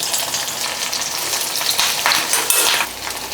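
Shallots and curry leaves frying in hot oil for a tiffin sambar tempering, a steady close sizzle that swells and crackles toward the end with a faint clink of a utensil, no voices.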